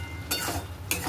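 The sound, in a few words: fish frying in a pan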